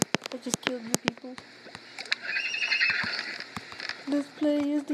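A horse in the video game Crossy Road whinnies several times amid quick clattering clicks and game-like sound effects, with a wavering tonal whinny near the end.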